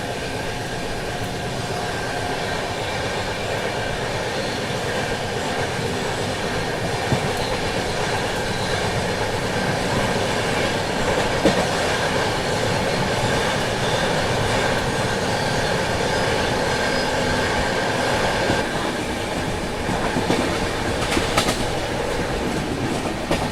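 The Golden Temple Mail passenger train rolls slowly past with a steady, loud rumble, a faint wheel clatter and occasional squeals, and no voices.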